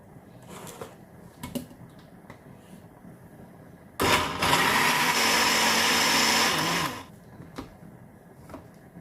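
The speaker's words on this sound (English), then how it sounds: "So I'm going to let it defrost, then I will blend it" An electric blender whirs loudly for about three seconds, grinding Scotch bonnet peppers and onion for Nigerian beans, starting abruptly and cutting off cleanly, with quiet kitchen clatter before and after.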